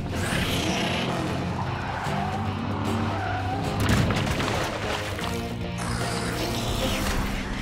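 Hot Wheels toy race cars tear along a track with squealing, skidding tires and rumbling, clattering motion, a busy continuous racing din with a soundtrack-like layer beneath.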